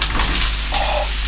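Vegetables cooking in a hot pan give a loud, close, continuous sizzle and hiss throughout the short stretch, with no voices over it.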